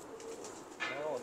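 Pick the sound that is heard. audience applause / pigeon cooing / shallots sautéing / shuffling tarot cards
pigeon cooing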